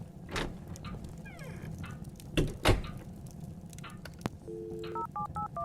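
Telephone being dialed on the desk phone of an office, with a run of several touch-tone beeps near the end, preceded by a few clunks and handling knocks.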